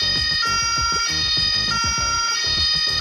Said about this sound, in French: Sur le dessus, la sirène est fonctionnelle.